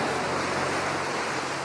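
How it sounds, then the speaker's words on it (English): Gentle sea lapping onto a flat beach in France at a D-Day landing site, a steady, even wash of surf noise with no talking. "there's just the lapping of the sea coming in"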